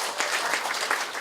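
An audience at a campaign office opening applauds, steady clapping from a crowd indoors, moderately close.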